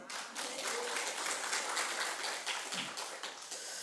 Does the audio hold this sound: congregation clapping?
yes